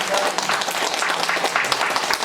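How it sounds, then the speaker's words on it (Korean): Church congregation at a communion Sunday service claps together in a loud, dense burst of applause that carries on steadily throughout. "마음으로 우리 한번 박수 한번 칩니다."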